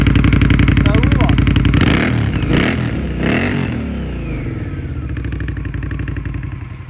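Indian motorcycle fitted with an electronic exhaust valve: the engine idles loudly and close, then revs in a few sharp blips as the valve opens, with someone talking over it.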